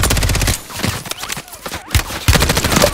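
Gunfire in a video game firefight, rapid bursts of shots close and loud, broken by a brief lull before heavy firing resumes; a player speaks over it.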